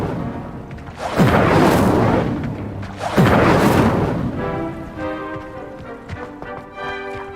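Incendio fire spell in Hogwarts Legacy, two loud whooshing fiery blasts a couple of seconds apart, each swelling and decaying, followed by softer tonal magical shimmer.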